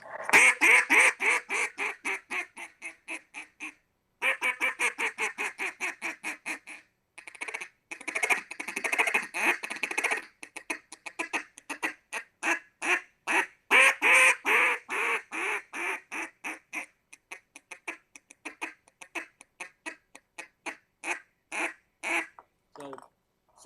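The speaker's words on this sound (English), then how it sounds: "It sounds like a lot, but it's really quacks and little single cuts." A duck call blown by a hunter, a series of short nasal quacks and quick single cuts in rhythmic bursts with brief pauses, close and clear with no talking over it.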